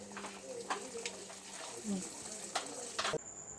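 Adhirasam, Indian rice-flour doughnuts, frying in hot oil, giving a soft, continuous sizzle broken by light clinks and scrapes of a utensil, ending abruptly.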